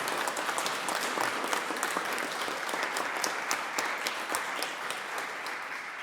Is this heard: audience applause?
yes